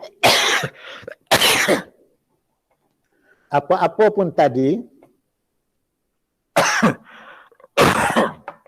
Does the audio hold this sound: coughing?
yes